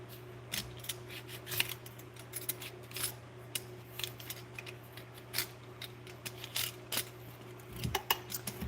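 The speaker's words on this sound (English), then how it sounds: "when I get as much off as I can using this peeler, I will go ahead and switch to a knife" A vegetable peeler scrapes the spines and skin off a paddle cactus, producing faint, irregular, close-up scraping strokes and small clicks against a quiet kitchen background.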